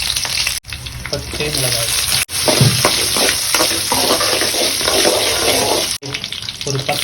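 Mustard seeds, cumin, ginger and green chilli frying in hot oil in a pan, a loud steady sizzle with crackling and spattering throughout while a voice speaks briefly over it.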